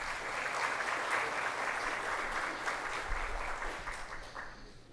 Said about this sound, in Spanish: Fuerte el aplauso también para recibirle.